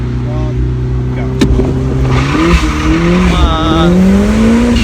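A turbocharged Mazda MX5 launching hard for a 0-60 run, its engine revving loudly and climbing through the gears with a brief sharp tire chirp at the start, up close and with voices talking.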